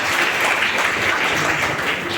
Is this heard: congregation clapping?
yes